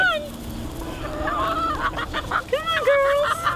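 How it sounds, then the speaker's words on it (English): Chickens on a small farm cluck and squawk close by while being fed. Their quick, overlapping, rising calls get busier toward the end over a light background murmur. "Phyllis and Jim are feeding the chickens here."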